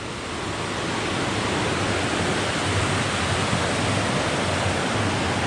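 Steady, loud rushing of creek water near a bridge below waterfalls along the Van Hook Falls trail, a continuous broadband roar with no pauses and no voices.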